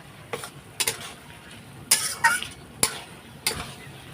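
A spoon scrapes and stirs spices being sautéed with chickpea dal in a hot pan. Several sharp, quiet scrapes and taps come at irregular intervals over a faint sizzle.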